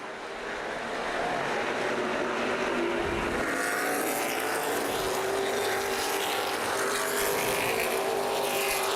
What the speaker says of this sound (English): Brent Jack in the 41 car trying to find a way around the 42 car of Brian Ross.